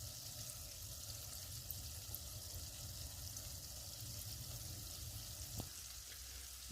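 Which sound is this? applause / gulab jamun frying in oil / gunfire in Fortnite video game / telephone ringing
gulab jamun frying in oil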